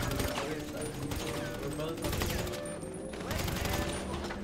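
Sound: gunfire at the player, from video game GTA

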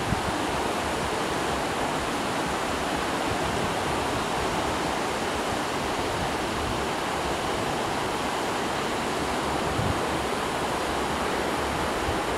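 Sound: sea waves on the beach at Majori, Riga

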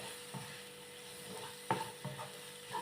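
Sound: spices and soybean frying in a pan

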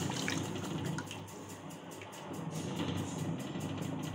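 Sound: pouring tamarind water with curry powder into pan

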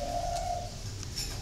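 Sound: caged doves cooing

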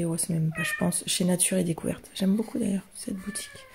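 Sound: cat meowing

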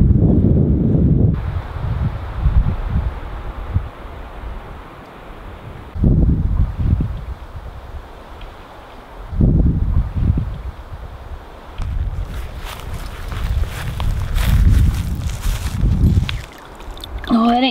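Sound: wind blowing by a lake

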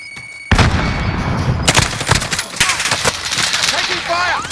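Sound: gunfire in a shooter video game

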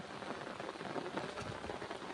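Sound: heavy rain falling on a village farm

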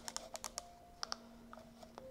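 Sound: typing on a Wi-Fi computer keyboard

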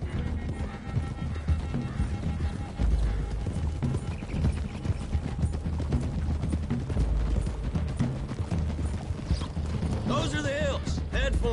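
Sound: horses galloping, hooves clip-clopping, from a video game

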